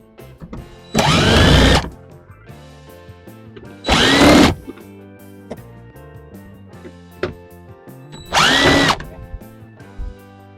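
Power drill backing out three screws from a wheel well panel on a 2021 Honda Pilot, three separate loud whirring bursts of about a second each, spaced apart with quiet gaps between them.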